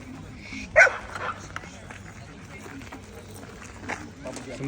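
A dog being corrected during training gives a single sharp bark near the start, then only low background noise and faint rustling, with occasional soft movement.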